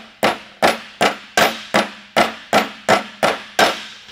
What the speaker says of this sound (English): we can start pounding this in and get this in place